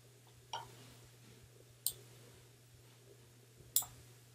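A computer mouse clicks during work on a Word-to-ePub conversion, with three sharp, isolated clicks spread over a few seconds and a steady low hum underneath; the second and third clicks are the clearest.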